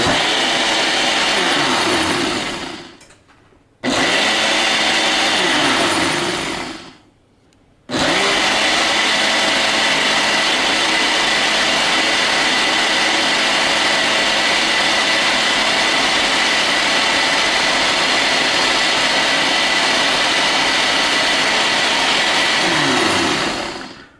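A locked blender mixes a healthy Caribbean smoothie, a loud, close motor roar that starts, cuts out twice in brief pauses, then runs steadily for a long stretch before winding down.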